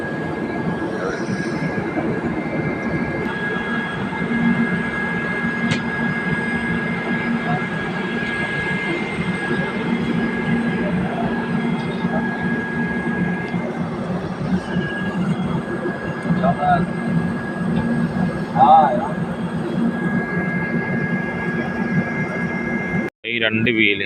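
Rail sounds on a single-line track where another train is coming: a steady, loud rumble of wheels and rolling stock with a faint high squeal, continuous for a long stretch, ending in a brief cut near the close.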